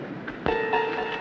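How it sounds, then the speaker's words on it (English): Approaching train in a 1971 western film, heard as a sudden onset followed by sustained high metallic tonal whines and rumble, steady and fairly close, with no talk over it. "That train will be here any minute"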